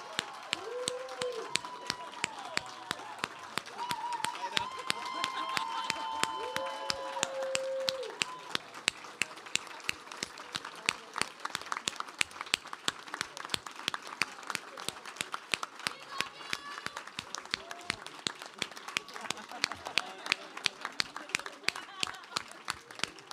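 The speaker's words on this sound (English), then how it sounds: "please enjoy one final and resounding round of applause from this audience" A poetry reading audience gives a resounding round of applause that runs for over twenty seconds, many hands clapping steadily at close range, with a voice speaking over the opening seconds before the clapping carries on alone.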